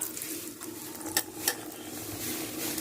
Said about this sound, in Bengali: আমি দুটো তেজপাতা আর একটা এলাচ আর একটু গোটা জিরে ফোড়নে দিয়ে দিচ্ছি